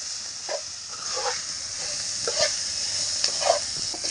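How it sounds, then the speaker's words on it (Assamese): Pork and baby potatoes sizzle in a pan, a steady frying hiss with soft, irregular scrapes as a spatula stirs them at about one-second intervals, close and moderately loud, no talking. "এইফালে হেতা দি ভালকৈ লাৰ দিছে"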